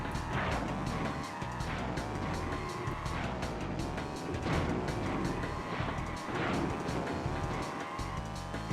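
Kart engine whine with repeated tire skids and squeals in Crash Team Racing on the N. Gin Labs track, continuous and loud, with game music and no talking.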